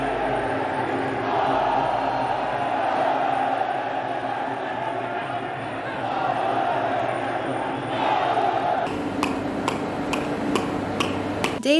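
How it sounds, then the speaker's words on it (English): Crowd of enthusiastic gamblers at Muay Thai fights in Rajadamnern Stadium, Bangkok, a steady roaring wash of voices that swells and dips, with a series of sharp clicks near the end. "It was a cool atmosphere with live Muay Thai music and a crowd of enthusiastic gamblers."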